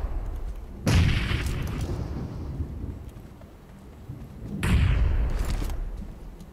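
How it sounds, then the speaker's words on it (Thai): Two heavy grenade blasts in the PUBG Mobile shooter game, each a sudden deep boom rolling into a rumbling tail, a few seconds apart and loud, with no talking. "โอ้ยระเบิดมา"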